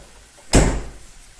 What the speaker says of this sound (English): you could tell these doors are heavy